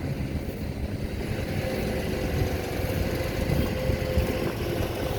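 A SANY SY215C ACE excavator with a Mitsubishi four-cylinder turbocharged common-rail diesel and intercooler runs steadily, giving a loud, continuous rumbling drone close by with no voices over it.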